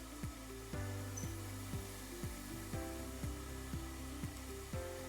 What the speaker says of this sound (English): This is a beautiful spin rinse dryer.